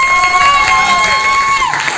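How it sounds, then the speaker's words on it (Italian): Concert audience at a live show in a café cheering and shouting together, a loud, dense crowd roar with whoops rising over it for a couple of seconds. "facciamo un altro applauso anche per loro"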